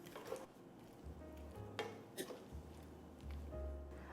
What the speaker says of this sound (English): So we're just going to saute these until the onions are pretty well cooked.